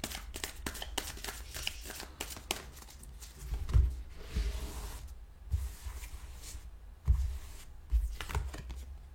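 A tarot card drawn from a deck, with soft shuffling, sliding and flicking of cards in irregular bursts, close and fairly quiet, with a few heavier taps on a surface.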